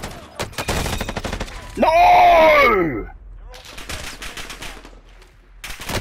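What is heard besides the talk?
gunfire in a video game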